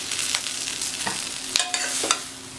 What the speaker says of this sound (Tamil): நீங்கள் கிண்டி விடும்போது பார்த்து இந்த மாதிரி மெதுவாக கிண்டி விடணும்.